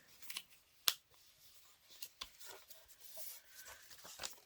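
Scissors snip through old magazine pages in a few quiet, separate cuts, with one sharper snip near the start and soft paper rustling between them.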